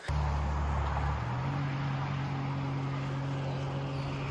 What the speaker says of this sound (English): That was a state park truck passing by.